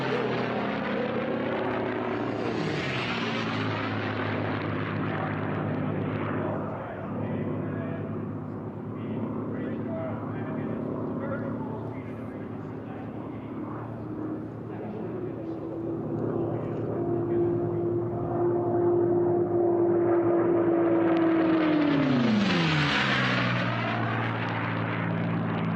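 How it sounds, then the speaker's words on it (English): An unlimited hydroplane powered by a Packard-built V12 Rolls-Royce Merlin roars on a race course, a deep sustained drone that swells as the boat passes nearby and then fades, with a commentator talking over it. "That is the V12 Rolls-Royce Merlin, license built in the U.S. by the Packard Corporation, but there it is"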